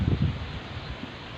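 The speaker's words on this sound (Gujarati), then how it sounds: "આજે જો પવન બહુ આવે છે" Strong wind buffets the microphone on the way to a farm field, a low rumbling gust that is loudest at the start, then settles into a steady blustery roar with a few brief swells.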